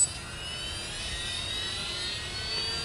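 A flywheel spins up with a steady rising whine and whooshing hum that holds loud and constant throughout, with no voices.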